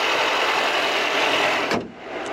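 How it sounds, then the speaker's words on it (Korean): Turbocharged four-cylinder engine of a Mercedes A250 4MATIC sedan, harsh and loud from outside, runs as a steady, close, broadband roar that cuts off abruptly near the end. "4기통 엔진이고요. 터보가 들어왔기 때문에 음색이 굉장히 거칩니다. 그래서 외부에서 들리는 엔진 소리가 굉장히 좀 시끄러운 편이고요"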